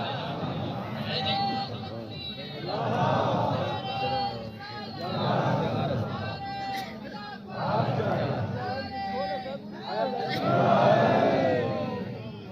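A large crowd at an annual religious gathering chants the slogan "Ya Ali" in repeated loud surging waves, voices massed together with babble between the shouts.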